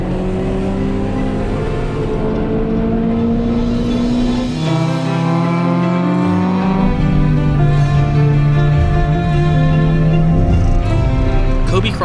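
Honda Civic EG race car lapping Virginia International Raceway, its engine droning and rising steadily through gears, loud and close throughout, with a brief drop in low rumble as it shifts before pulling hard again.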